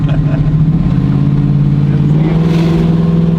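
An old Dodge Challenger's engine hums and pulls as the car accelerates, heard from inside the cabin with a steady low tone, while people talk over it.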